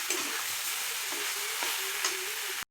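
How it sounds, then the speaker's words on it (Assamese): Fish curry masala with chicken masala stirs and fries in a pan over a low gas flame, giving a steady, close sizzle with occasional scraping stirs and no talk. "এইবাৰ মই আকৌ 5 মিনিট মান সময় এনেদৰে গেছ লো ফ্লেমত ৰাখি লৰাই"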